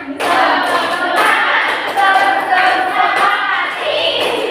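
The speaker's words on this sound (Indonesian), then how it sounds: "2 kali tepuk semangat." A group at a classroom counselling practice session performs a rhythmic spirit clap, dense loud claps running throughout with voices mixed in.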